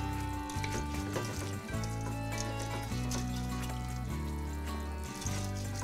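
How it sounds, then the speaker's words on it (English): Rice in a pan deglazed with white wine while being stirred, a continuous bubbling sizzle under a bed of background music, no speech. "And now I will deglaze with the white wine. And continue stirring."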